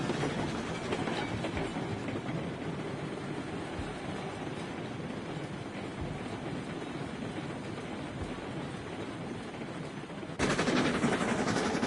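Train running in the game Railroads Online, a continuous rumbling roll with rapid rhythmic clatter of wheels on track, steady and close, swelling slightly louder near the end.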